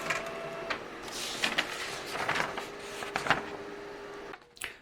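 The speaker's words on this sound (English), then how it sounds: "open it up in your preferred program, basically invert it and crop it and send it to your printer" A printer runs off an inverted film negative contact sheet, whirring steadily with clicks and repeated mechanical bursts, then ending in a sharp clatter.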